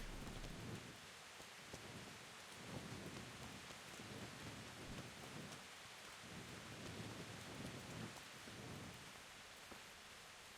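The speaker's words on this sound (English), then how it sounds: "Won't stop raining." Steady rainfall in the medieval game Kingdom Come: Deliverance, a soft, even hiss of rain with faint low rumbles underneath, fairly quiet and with no voices.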